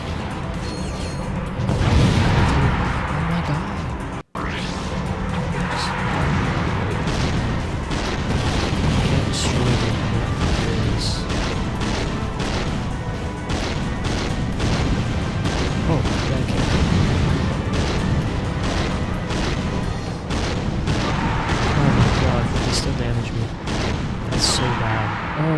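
Rockets fire repeatedly in the Ratchet & Clank: Going Commando video game, sharp booms and blasts scattered throughout over busy mechanical action sounds, while a player talks over much of it.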